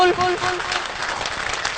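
A live audience claps continuously at a motivational talk, a dense, fairly loud patter of hands, with a speaker's voice briefly heard at the start.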